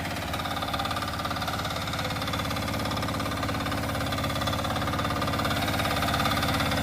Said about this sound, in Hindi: डीजल सेल्फ स्टार्ट इंजन है 8 हॉर्स